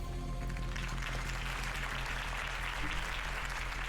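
A crowd at a campaign speech bursts into sustained applause, a loud, continuous wash of clapping and crowd noise with no clear break.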